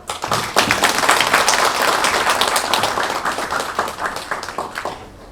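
Audience applause fills a university ceremony hall at the launch of a glocal university project, dense clapping from many hands, loud and sustained before slowly thinning toward the end.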